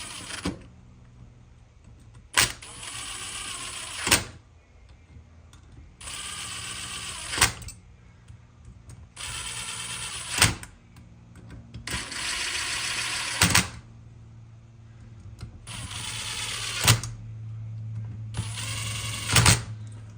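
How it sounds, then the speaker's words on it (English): An impact wrench is used gently on the carburetor of a Sleek Craft jet boat. Seven loud, close rattling bursts, each lasting one to two seconds, are separated by short pauses. "I know somebody's probably going to say something about using an impact, but keep it usually pretty gentle."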